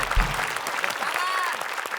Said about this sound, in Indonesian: Ya kita beri tepuk angin ya.